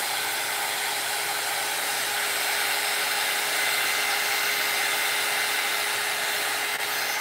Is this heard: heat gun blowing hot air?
yes